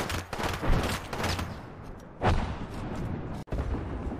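Rapid gunfire in an Apex Legends match, dense bursts of shots and impacts that rise and fall over a few seconds, fairly loud, with one sharp louder blast midway.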